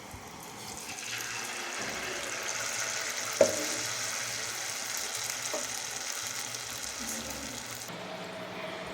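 Bondas made from maida and curd batter fry in hot oil with a steady, even sizzle, a faint continuous hiss lasting several seconds, broken by one sharp brief knock near the middle.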